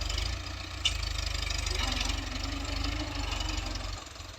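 The engine of a New Holland Dabang tractor pulling a chisel plough through a field gives a steady, loud, low throbbing drone, with a sharp click near the start and the drone easing slightly toward the end.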